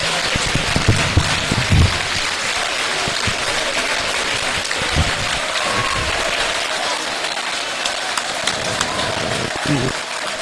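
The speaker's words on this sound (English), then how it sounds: "Hold on, now you're clapping for that president." A crowd at a presidential dinner with the media claps for the president, a sustained patter of many hands filling the room, with low thumps and some murmured talk underneath.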